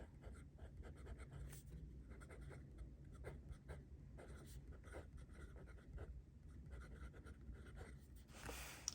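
A broad-nib blue Platinum 3776 Century fountain pen scratches across paper in faint, close, continuous strokes with short pauses, heard alone without talk.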